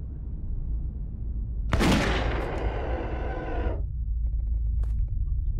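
Old rifle or musket firing in the horror video game Witch Hunt, a single loud sharp blast with a long rumbling decay lasting about two seconds, then a few faint clicks afterward.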